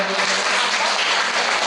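An audience claps for a performer at a Rabindra Jayanti celebration, a brief, even wash of applause filling the room without any voices.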